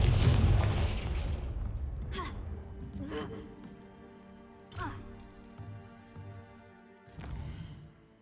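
Confringo fire spell blasts in Hogwarts Legacy: a loud initial burst followed by several sharp impacts spaced a second or two apart, decaying into rumbling debris.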